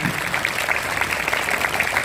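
Audience applause at an inauguration ceremony with schoolchildren present, a steady, dense wash of clapping that holds evenly for about two seconds with no voices on top.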